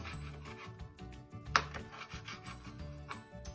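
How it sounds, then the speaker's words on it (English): Knife cutting raw sausages into chunks on a chopping board, a run of soft rhythmic strokes with one sharper knock midway, close and fairly quiet. "So I'm going to carefully cut the sausages into chunks."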